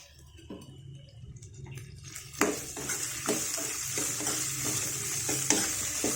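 Potato pieces fry in hot oil beside cashews while being stirred for sabudana khichdi, a steady sizzle broken by repeated scraping strokes of a spoon against the pan.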